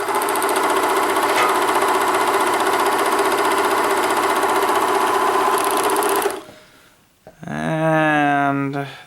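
A White Superlock 534 serger sewing machine stitches at high speed with a loud, steady, buzzing whir for about six seconds, then stops. A voice speaks briefly just after.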